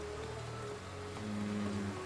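Cartoon rain falls as a steady, dense hiss of drops, fairly soft and continuous under low tonal background sound, with no voices.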